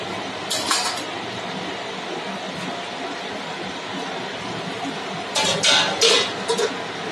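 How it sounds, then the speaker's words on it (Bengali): Lid placed on a pot of chicken curry, short metallic clinks and rattles near the start and again a few seconds later over a steady kitchen background hiss. "এবার তাহলে ঢেকে দেবে মা।"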